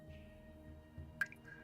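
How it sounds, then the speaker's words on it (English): A water droplet falls into still water in a dark, quiet tabletop-game setting. One sharp, clear plink rings out after a low hum, with a fainter drip following. "It's like a droplet hitting a water surface."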